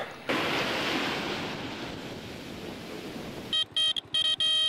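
Ocean waves at a beach near Maputo, a steady loud wash of surf with wind noise on the microphone, breaking off near the end into a few short sharp bursts.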